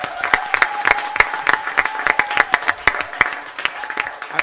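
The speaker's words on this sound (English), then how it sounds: "how about a round of applause for Mr." Audience applause at a school district governing board meeting, a short burst of brisk clapping from a modest crowd, close and fairly loud with distinct individual claps.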